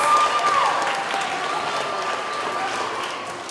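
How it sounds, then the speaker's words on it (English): An elementary school assembly audience applauds sixth graders, a loud, sustained roar of clapping from a large crowd in a hall that slowly fades, with a brief electronic tone near the start. "Let's give them a round of applause."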